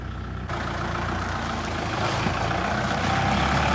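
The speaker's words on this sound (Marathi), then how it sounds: "चला चला ट्रॅक्टर सुरू आपलं बंद पडला आणखी" A tractor's diesel engine rumbles steadily and loudly with a low idling throb, starting abruptly and continuing without a break.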